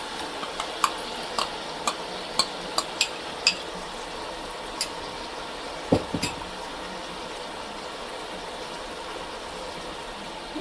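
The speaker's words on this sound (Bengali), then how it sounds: "এখন এই মশলাটাও সুন্দর করে আমি এর সঙ্গে নেড়ে নেব।" Spices with ginger-garlic paste for beef curry are stirred in a pan over a soft sizzle, the spoon tapping and scraping the metal in a series of sharp clicks, then a few louder knocks, close and without talk.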